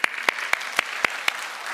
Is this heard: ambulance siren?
no